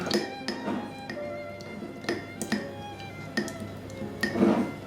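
Metal spatula stirring sourdough starter in a container, giving a series of sharp clinks and taps against the sides, spaced irregularly with a louder scrape near the end, close and fairly quiet.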